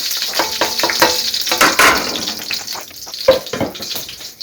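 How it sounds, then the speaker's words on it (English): Cumin seeds and dried red chili peppers frying in a pan give a steady crackling sizzle with scraping stirs and occasional louder pops, close by and with no voices. "I'm going to put my cumin and my red dry chili pepper. And I'm going to cook this for 1 minute."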